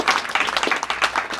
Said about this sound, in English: we need to clap for them